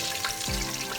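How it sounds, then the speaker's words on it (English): Potatoes frying in hot oil, giving a steady close sizzle and crackle with no pauses, and no voices over it. "I am going to fry the potatoes first"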